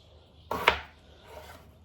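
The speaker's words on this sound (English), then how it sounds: "So we're going to cut potatoes" A knife cuts through a potato in one short, crisp chop against a board, followed by a softer scraping slice, close and isolated.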